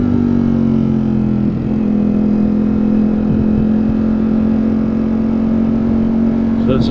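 Ducati Streetfighter V4S motorcycle cruising through New York City streets, its engine holding a steady, loud drone close by for the whole stretch, with only slight shifts in pitch and traffic noise mixed in.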